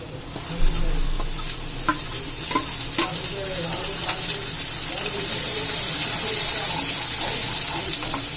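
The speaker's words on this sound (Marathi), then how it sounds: "मटण टाकूया." Mutton added to a hot pan of ground masala, garam masala and chili sends up a steady, fairly loud hiss, with a few faint scraping stirs and a brief thump near the start.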